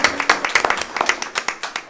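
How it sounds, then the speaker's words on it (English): A small audience at a school district board meeting claps for a National Merit Scholar, a fairly close, irregular patter of individual hand claps over about two seconds. "if you would please give him a round of applause"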